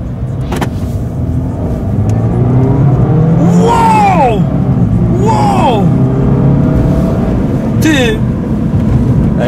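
A 2007 Mini Clubman 1.6 driving and accelerating, with the engine rising in pitch through several gear changes under steady interior road noise, while someone talks.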